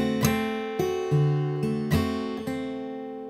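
Guitar notes plucked one at a time alongside a low bass note, then full strums ringing out, played alone at a slow, steady pace.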